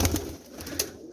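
Pigeons in a Jhelum loft give a brief low coo close by, a short soft murmur with a couple of quick sharper notes.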